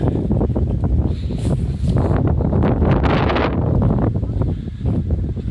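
Wind gusting steadily through a shared community garden where young trees such as a freshly planted ginkgo sway, a continuous broadband rush with rustling swells, close to the microphone and heard alone.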